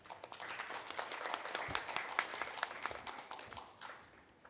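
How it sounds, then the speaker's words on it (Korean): Audience applause at a Korean conference session on AI-based drug discovery, a fairly quiet, even stretch of clapping from a crowd that swells slightly and then tapers off at the end. "큰 박수 부탁드립니다."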